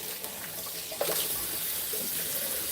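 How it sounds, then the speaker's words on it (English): Tap water running into a sink to rinse produce for juicing, a continuous close splashing gush that intensifies briefly partway through. "Okay, now it's time to rinse"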